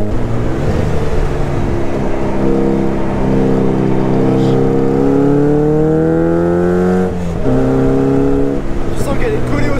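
Caterham Super Seven 1600K roadster engine revving hard on a road, a loud continuous roar climbing through the gears with rising pitch, a brief dip at a shift, then pulling again.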